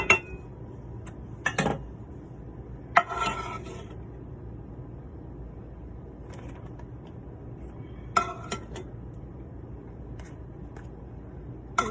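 A metal spoon scrapes and clinks against a pan while digging out sausage and potato casserole, giving a few sharp separate scrapes with quiet gaps between them and no voices.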